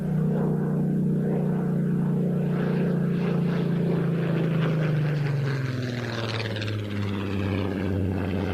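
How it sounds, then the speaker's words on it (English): A Supermarine Spitfire FR-14 propeller aircraft roars past at an air show, its loud engine drone steady and then dropping in pitch as it passes and moves away. "A Supermarine Spitfire FR-14."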